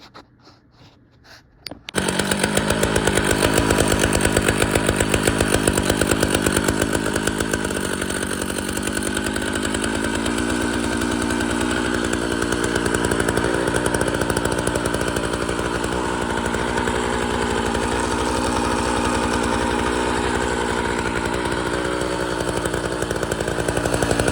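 Husqvarna 480CD chainsaw firing up after a few faint pulls, then its two-stroke engine running loud and steady close by, idling and buzzing continuously for over twenty seconds with slight shifts in pitch.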